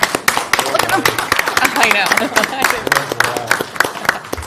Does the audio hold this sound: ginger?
no